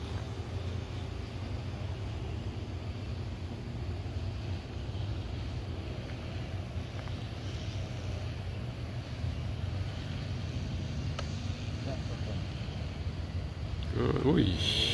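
A 3D printed radio-controlled MiG 15 model jet flies on its maiden flight, its steady broadband whoosh and hum continuous and wind-buffeted outdoors, with a brief louder surge near the end.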